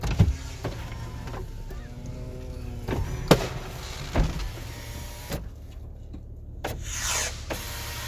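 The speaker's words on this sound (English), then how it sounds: "I guess I gotta open my window." A car's power window motor whirs as the window lowers during a neighborhood fireworks night, with firework bangs and crackles scattered around it.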